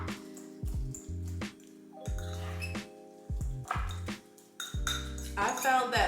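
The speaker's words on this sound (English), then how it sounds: "we're just going to smash it and mix it in good." Sweet potato being smashed and mixed with eggs and bacon in a pan, repeated squishy mashing strokes with clinks of utensil against cookware, close and rhythmic, with a voice talking in between.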